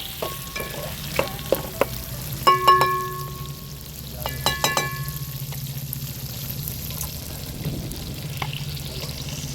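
Chicken and sliced bajji chillies are stirred in a hot frying pan, with a continuous close sizzle under clattering spatula scrapes and metallic clinks that bunch together early, then ease into steady frying.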